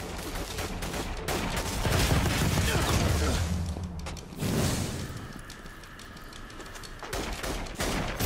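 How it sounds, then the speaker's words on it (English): Gunfire from the inFamous Second Son video game crackles in bursts beneath a busy game soundscape, with rattling mechanical noise and some voices mixed in. "I heard shots."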